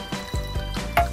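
Water scooped with a wooden-handled ladle at a Shinto shrine's purification basin for washing hands: several close, short splashing pours and drips in an uneven rhythm.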